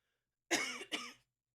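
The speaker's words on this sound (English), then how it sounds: "I'm going to be coughing a lot." Two quick, harsh coughs from one person close to the microphone, back to back, with silence before and after.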